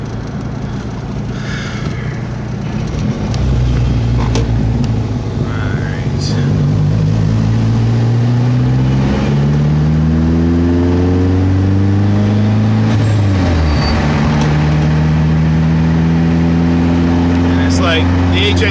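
Car with an HX35 turbo accelerating on a cold day, loud engine tones rising repeatedly in long sweeps and dropping at each shift, with a heavy cabin rumble underneath.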